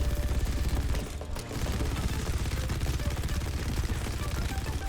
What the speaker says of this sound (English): Let's start by focusing a big part of MAUGA's kit, his 2 miniguns.